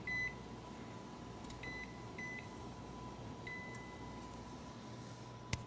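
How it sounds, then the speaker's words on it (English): An oven timer gives several short electronic beeps in quick pairs while it is being set, clear against a steady low kitchen hum, with no talking. "Set the timer."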